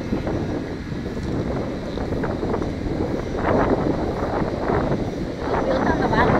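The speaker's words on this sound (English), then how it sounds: "I'm almost thinking it's too windy to fly right now" Strong wind buffets the microphone outdoors during a Hobbyzone Delta Ray model plane flight, a steady loud low rumble that surges in gusts throughout, with voices talking underneath.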